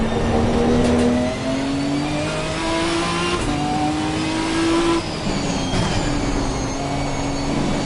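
Ginetta GT4 race car in Assetto Corsa Competizione, engine note rising and falling through gear changes with a drop and downshifts under hard braking, loud and close, no talking.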